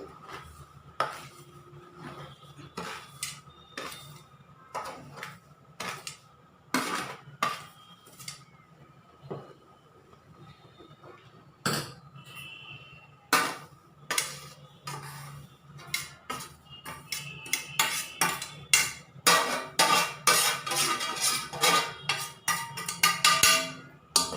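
A utensil repeatedly scrapes and clinks against a metal pot, sparse at first and then quickening into rapid, continuous stirring.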